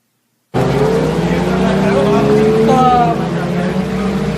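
Lamborghini Gallardo engine roaring loudly and steadily from a sudden start as the car gets under way, with rising tonal whine as it accelerates through the ride.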